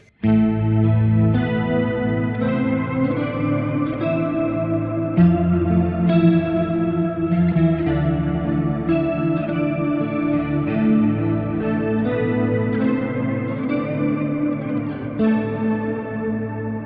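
Electric guitar runs through a Kemper Profiler with a POG octave effect adding a lower octave, sustained chiming chords and notes with a thick, chorus-like shimmer playing continuously and loudly on their own.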